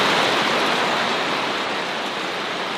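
Heavy rain pours down steadily in a continuous dense hiss with no breaks, loud and close, with no voices.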